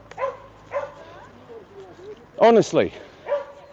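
Dogs in a park yip and bark in short bursts, including a sharp double bark near the middle, while someone speaks briefly over them.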